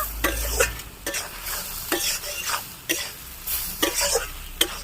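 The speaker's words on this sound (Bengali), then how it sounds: "সোয়াবিন দিয়ে একটু নেড়ে ছেড়ে নেবো" Soybean chunks being stirred through a poppy seed masala in a frying pan: a spoon scrapes in repeated strokes over a steady close sizzle, with a brief cough-like sound and no talking.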